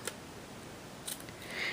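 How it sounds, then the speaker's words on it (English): Scissors cut paper while a handmade masculine greeting card is being made, giving a few quiet, crisp snips spread apart over a soft background hiss. "it's just easier to grab my scissors and cut it"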